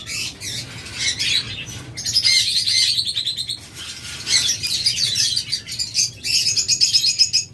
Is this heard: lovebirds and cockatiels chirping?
yes